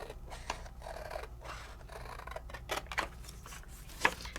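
Scissors freehand-trimming a papercraft piece from a stencil layering project, giving a few soft, brief snips and rasping cuts spread across the clip, with one sharper snip near the end, fairly faint.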